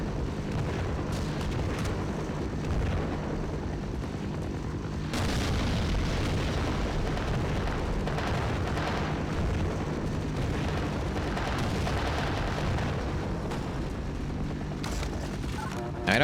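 Continuous barrage of explosions in Brutal Half-Life, dense booming blasts and bursts one after another for the whole stretch, loud and close, with a sharper burst of detonations near the middle and a faint voice underneath.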